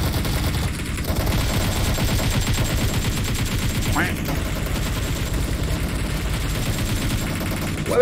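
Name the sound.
gunfire in PUBG Mobile video game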